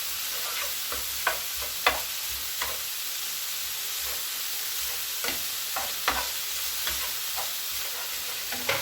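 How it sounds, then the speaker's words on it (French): A spoon stirs a mixture in a bowl for a homemade cheesy bread, with light scrapes and taps at an irregular rhythm over a steady background hiss and no voices. "Et vous mélangez bien comme il faut"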